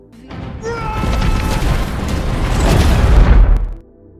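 A ship blows up in an action film, a heavy booming explosion that builds into a sustained roaring rumble with crashing debris before cutting off abruptly.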